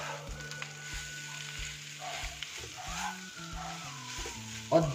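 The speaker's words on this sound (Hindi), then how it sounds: "2 मिनट हमें लगातार चलाते हुए इनको तेज गैस पे भून लेंगे" Boiled, lightly mashed potatoes frying over high heat in a pan while being stirred, giving a soft steady sizzle under quiet background music, with a small scrape near the end.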